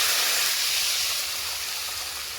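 Water poured into a pan of frying potatoes and pointed gourd hisses and sizzles loudly, a broad bright steam hiss right up close that slowly eases off.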